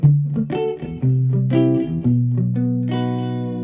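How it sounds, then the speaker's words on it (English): Electric guitar through a Fulltone tape echo, playing rockabilly surf-style lead licks with palm muting, each plucked note ringing with repeating echoes, loud and close without any voices. "I'm using my real tape echo tonight, my full tone tape echo"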